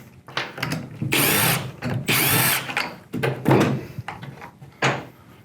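A power drill backs stainless steel screws out of door jamb connectors on a panoramic door, running in close, loud whirring bursts separated by brief pauses and small mechanical clicks, with no one talking.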